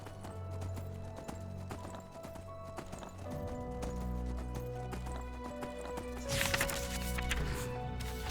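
Rhythmic hoofbeats of a horse in the video game Enderal, a Skyrim mod, clip-clop steadily over a constant background hum, growing busier toward the end, with a brief whinny.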